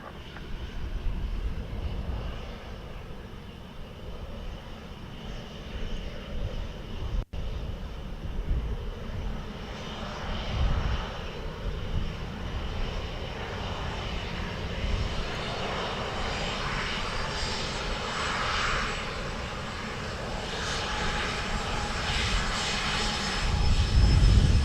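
A Ryanair airliner landing at Dublin Airport makes a steady, broad jet engine roar that swells and holds across the whole span, heard outdoors with some wind buffeting and a louder rumble building at the end.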